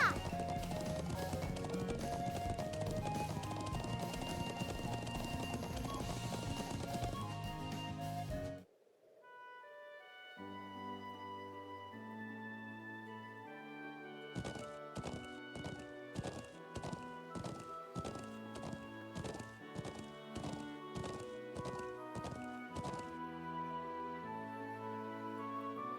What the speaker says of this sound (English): The way this horse moves is so tight.